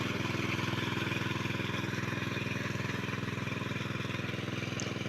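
A village water pump machine starting up and running, a steady close engine drone with a fast regular chugging pulse that holds evenly throughout without pauses.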